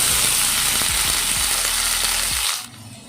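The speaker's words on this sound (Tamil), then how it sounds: "வெங்காயம் வந்து நல்லா கொஞ்சமாக வதங்கணும்." Chopped onions fry in a pan for a Tamil gooseberry (amla) dish, a loud close sizzle with repeated scraping stir strokes, fading down sharply near the end as the heat or stirring stops.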